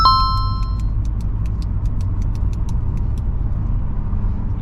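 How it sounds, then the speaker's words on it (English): Car speeding past on a road near a Leeds test route, a steady loud broadband engine and road rumble heard from inside a vehicle, with a chime at the start and a faint rapid ticking over it. "that was a car which was speeding"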